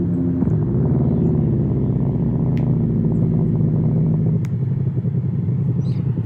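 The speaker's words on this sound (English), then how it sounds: "Let's start up the car." A Roblox block car's engine starts and idles with a deep, steady rumbling exhaust note, loud and close, holding a constant tone with a slight shift near the end.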